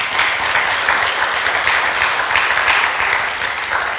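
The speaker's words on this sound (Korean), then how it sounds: "하나님께 영광의 박수 올려드립시다." A church congregation claps together during a Sunday service, a dense, steady wash of hand claps that fills the room at an even level from start to finish with no voices standing out.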